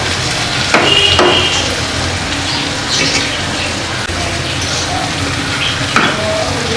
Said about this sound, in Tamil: இங்கே பாருங்கள், நல்லா பபிள்ஸ் வந்து திக் ஆகுது